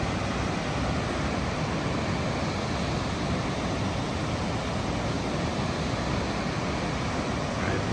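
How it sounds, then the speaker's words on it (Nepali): Water at Nagra waterfall in Norway rushes in a constant dense roar, steady and unbroken from start to finish. "यस्तो छन् नाग्रा फल।"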